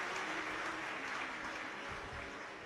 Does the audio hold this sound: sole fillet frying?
no